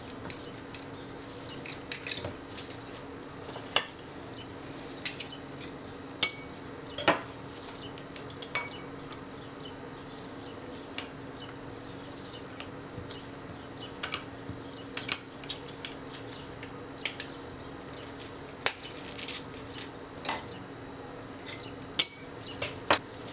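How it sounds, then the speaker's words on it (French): A utensil crushes ingredients in a bowl while grilled chicken thighs are prepared, giving steady, fairly quiet clinks and scrapes against the bowl, with sharper knocks recurring throughout. "Alors, ensuite, on les écrase."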